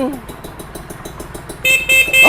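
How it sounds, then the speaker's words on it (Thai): A Tena 125 dirt bike motorcycle engine idles and revs nearby, a rapid pulsing putter that sharpens into louder throttle blips toward the end, with someone talking briefly. "เสียงเครื่องยนต์นะครับ"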